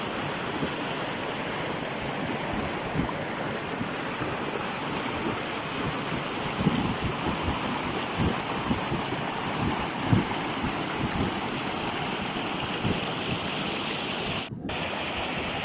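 Steady broadband rush of a mountain stream running over rocks near Abuab Waterfalls, San Mateo, continuous and fairly close, with some wind noise and no voices.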